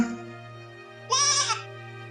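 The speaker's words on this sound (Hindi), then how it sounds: "संतोष बकरी के बच्चे को उठाकर अपने साथ ले आता है।" A weak baby goat in a cartoon lets out a single short bleat, close and clear, over a soft sustained musical background.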